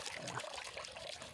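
A small mountain spring trickles into a basin beside a hiking trail, a soft, quiet, continuous burble and splash heard close by with no talking.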